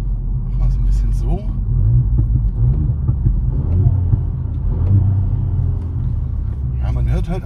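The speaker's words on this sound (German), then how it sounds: "Ja, man hört halt Ansaugung, das ist aber auch alles." A Ford Fiesta ST Mk8 fitted with a Pipercross intake gives a steady, deep engine rumble with faint intake noise, loud and continuous, with a voice talking over it.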